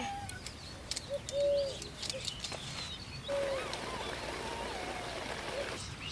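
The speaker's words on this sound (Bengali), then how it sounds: "দেখো কি সুন্দর পাখির ডাক" Village morning birdsong outdoors near a fish-cutting spot, with two clear whistled calls standing out over a soft, steady background hiss and a few faint chirps, quiet and without talk.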